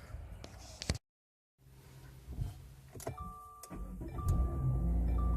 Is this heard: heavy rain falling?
no